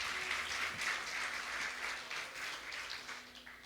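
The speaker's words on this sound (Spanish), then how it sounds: "Dale un aplauso al Señor" A church congregation applauds steadily throughout, a dense wash of clapping at moderate volume that eases slightly toward the end.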